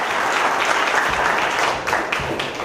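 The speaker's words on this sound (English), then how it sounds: "If you would please give a roaring round of applause for Senator Kennedy." Crowd applause for Senator John Kennedy at a Marsy's Law for Georgia event, a dense, steady wash of many hands clapping that holds loud throughout, easing slightly near the end.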